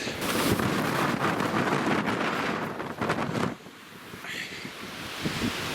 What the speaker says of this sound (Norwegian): det er ikke veldig kraftig vind heller akkurat nå